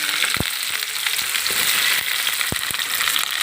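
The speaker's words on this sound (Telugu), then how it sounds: "ఉల్లిపాయ ముక్కలు, పచ్చిమిరకాయ ముక్కలు, టమాటా ముక్కలు కూడా ఇప్పుడు వేసి వేగించేస్తామండి." Onion, green chilli and tomato pieces fry in hot oil in a pan, giving a constant loud sizzle with a few sharp clicks from stirring and no voices.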